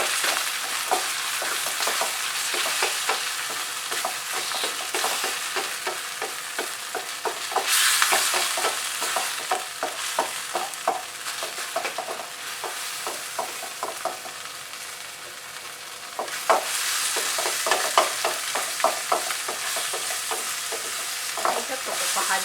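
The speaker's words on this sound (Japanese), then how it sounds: "豆板醤を入れて、で炒め合わせます" Shrimp and bamboo shoots stir-fry with doubanjiang in a pan, a steady close sizzle broken by repeated scraping stirs at an even rhythm, with no voices.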